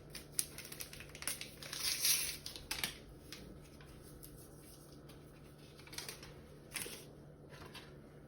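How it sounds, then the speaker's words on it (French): A baking powder sachet is handled and torn and its contents emptied into flour, giving quiet, close crinkly rustles and taps in short bursts with soft pauses between. "Ensuite je mets mon sachet de levure chimique"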